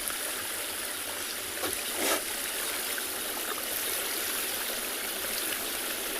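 A stream flows in the South African bush, a continuous soft rushing and trickling heard at moderate distance, with a couple of brief splashy bursts and no speech.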